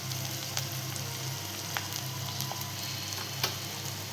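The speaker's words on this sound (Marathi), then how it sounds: "कांदा आपल्याला चांगला परतवून घ्यायचा आहे." Chopped onion sautés in a hot pan for an Alibag-style shivlya clam dish, giving a steady, dense sizzle with a few faint clicks of stirring, loud and continuous with no voices.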